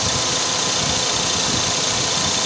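A 2015 Toyota Vios E automatic idles with its air conditioning running, giving a steady, close engine hum with a faint knocking texture and no voices.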